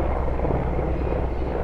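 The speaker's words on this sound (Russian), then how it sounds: "вертолет сейчас у нас пролетит" A helicopter flies overhead above a garden, its loud, steady low rotor drone filling the whole stretch without a break.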